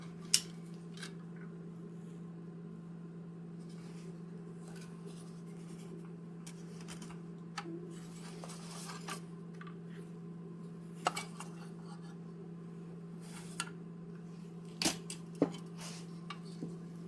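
Snips and scrapes of a blade cutting through a cable jacket, sparse faint clicks and cuts scattered over a steady low hum, with a few sharper snaps toward the end.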